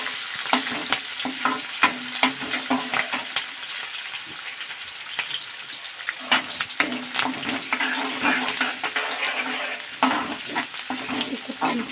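Onions sizzle in hot oil for masala brinjal, a continuous close frying hiss broken by frequent clatters and scrapes of stirring throughout.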